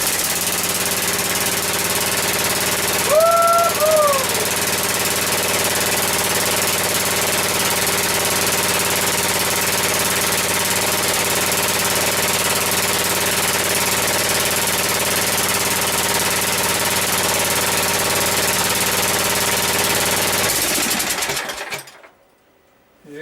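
A Yard Machines riding mower engine runs steadily close by, an even, buzzing mechanical drone that holds for about twenty seconds with a brief squeal early on, then cuts off abruptly.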